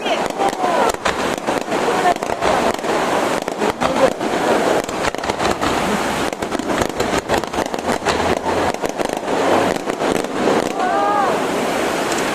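Fireworks launch and burst at Gero Onsen: a dense, continuous rush of crackling pops and booms that keeps going without a break, with whistling rises now and then.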